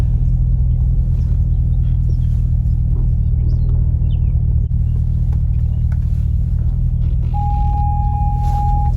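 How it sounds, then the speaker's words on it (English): A 2008 Corvette C6 with an LS3 V8 rumbles at a steady, deep idle while backing slowly out of a driveway, the low engine drone constant and close throughout, with a thin warning tone appearing near the end. "I'm just gonna try to back out without even hitting the gas."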